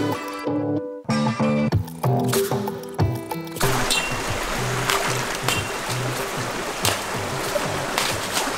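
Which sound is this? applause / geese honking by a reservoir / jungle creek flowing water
jungle creek flowing water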